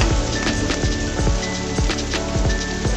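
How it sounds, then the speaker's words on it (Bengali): Cubed medium potato frying in a pan for a cauliflower and egg dish, a dense steady sizzle with rapid crackling pops throughout, no voices. "বন্ধুরা আলুটাকে আমি ভেজে নিব 2 মিনিট মতো"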